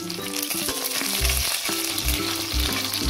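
Dried red chillies and curry leaves fry in hot oil on a low flame for a Tamil mutton chukka, a steady close sizzle heard with music playing throughout.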